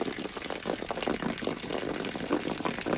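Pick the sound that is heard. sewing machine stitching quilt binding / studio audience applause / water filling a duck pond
water filling a duck pond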